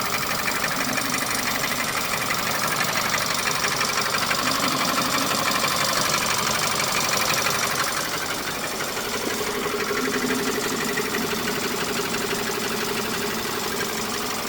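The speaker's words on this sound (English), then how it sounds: "The engine is working now" An ex-police BMW G31 engine idles steadily after a coolant top-up, with a coolant leak underneath; a constant, fairly loud mechanical hum runs throughout, easing briefly partway through before settling again.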